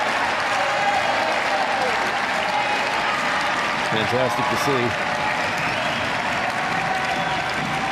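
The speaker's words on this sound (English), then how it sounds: "Hometown crowd trying to rally their team." A home crowd keeps up sustained applause at a Paris 2024 Paralympic boccia mixed pair quarter-final, a dense, steady wash of clapping filling the arena while a commentator speaks over it.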